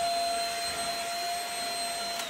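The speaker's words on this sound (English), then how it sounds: "this is my first time using the vacuum cleaner" A household vacuum cleaner runs steadily indoors, a loud continuous whining roar with a sustained high motor tone and no break, close to the listener.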